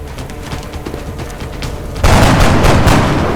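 Gunfire in the video game XCOM: Enemy Unknown, a dense crackling barrage that erupts into a loud, booming blast halfway through and then rolls on as a heavy, steady rumble.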